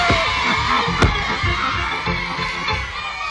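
Cartoon crowd cheering and clapping in a dense, steady roar, with a sharp bang or whoop rising briefly near the start, a continuous wash of voices throughout.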